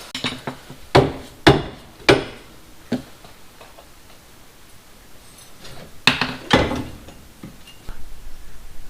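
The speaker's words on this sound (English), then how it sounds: "Should be able to take a mallet and gently tap these out" Mallet tapping out suspension bolts on a Jeep Cherokee XJ, sharp metallic knocks coming in short irregular bursts of two or three, close and crisp, with quiet gaps between.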